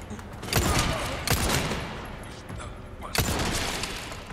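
Gunfire from the video game Resident Evil 4 Remake, Separate Ways DLC on PS5: three loud broadband shot bursts spaced about a second apart, each ringing out into dense game noise.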